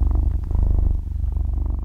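A MAC submachine gun fitted with a LAGE upper fires full auto in a close, loud burst of very fast, evenly spaced shots that blur into a throbbing, purring rattle.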